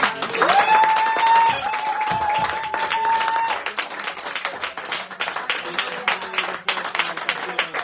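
A church congregation applauding, sustained dense clapping from a crowd with a voice and a long tone over it at first, then looser scattered claps.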